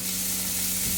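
Green chili and sliced onion hitting hot oil with garlic in a pan, a loud, close, steady sizzle lasting about a second.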